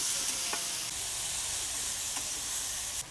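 Raw guava pieces sizzle and fry in a pan with a steady hiss, punctuated by a few soft scrapes of stirring.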